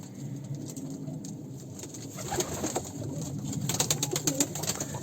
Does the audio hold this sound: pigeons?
yes